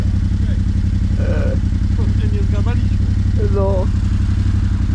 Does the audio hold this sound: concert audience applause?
no